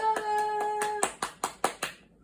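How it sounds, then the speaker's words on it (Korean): Hands clap several times in a quick, even series, close and crisp, following a sustained tone from a toy or device that fades as the claps begin. "또 박수."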